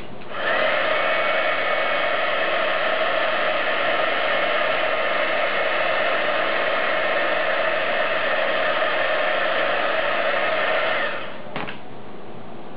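A craft heat tool blowing on embossing powder to melt it, a loud, steady whirring fan drone that holds evenly for about eleven seconds, then cuts off with a brief click.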